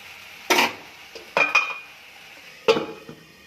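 Three sharp clanks of a spoon scraping and knocking a pan while stirring a salted curry, spaced a second or so apart, each ringing briefly over a faint background sizzle.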